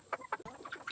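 Backyard chickens cluck in quick short bursts, several soft calls close by over a steady high-pitched background hum.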